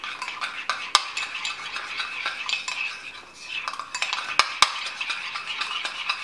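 Cheese filling with mozzarella being mixed in a bowl, a spoon clinking and scraping against the sides in quick, close, irregular strokes with a few sharp knocks, no voices.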